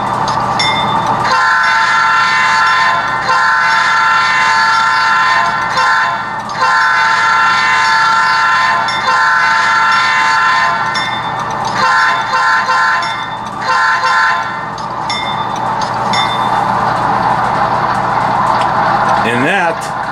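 HO scale Rapido Trains Dash 8-40CM model locomotives running on a custom-detailed layout, giving a steady loud electronic engine drone with repeated horn toots and brief dips, continuous for about twenty seconds.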